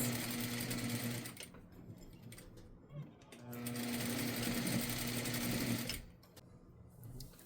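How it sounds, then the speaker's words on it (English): A sewing machine stitching back and forth over the cuff of a handmade dress, running in two steady whirring bursts separated by a brief pause, close and clear with no talk. "Let's sew it nice and strong a couple of times."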